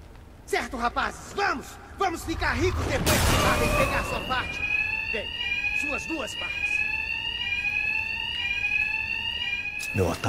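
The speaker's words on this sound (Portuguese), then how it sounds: "Será abafado pelo barulho do alarme" Loud looping alarm rings inside a Gotham bank in Batman: Arkham Knight, a steady warbling tone sounding continuously for most of the stretch over game noise, with brief voice lines and a burst of impact noise before it starts.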